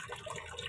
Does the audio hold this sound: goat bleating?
no